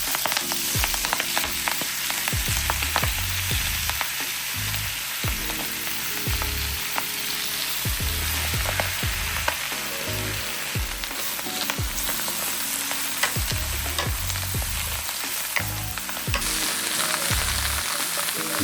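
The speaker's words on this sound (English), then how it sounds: "to cook the spinach, I'm going to use the same pan that I cooked the steak in" Spinach frying in steak drippings in the same pan, a loud continuous sizzle and crackle running throughout with repeated stirring knocks and scrapes close by.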